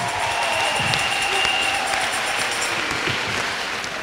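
A church congregation applauds in praise of Jesus Christ with dense, sustained clapping that fills the whole stretch, loud and steady, with a few voices mixed in.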